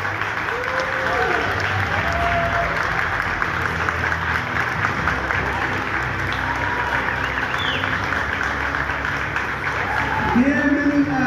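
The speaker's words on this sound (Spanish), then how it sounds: "un aplauso, por favor, muy grande para los más odiados y los más amados, nuestro panel de críticos" Studio audience applause for a panel of critics on a Mexican singing-competition show, steady broad clapping throughout at moderate level, with voices and a host speaking over it.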